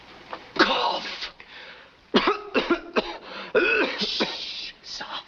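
Several short, harsh coughs in quick bursts, close and fairly loud, with pauses of quiet between them.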